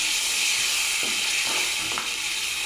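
Ground coconut and spice paste, made from roasted coconut with chili and coriander powder, goes into a pan of frying onion and tomato, giving a steady close sizzle with a few soft stirring scrapes and no talking.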